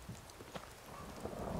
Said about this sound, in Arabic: لانه هيك محل ما واقفين تحت المطر مش حلو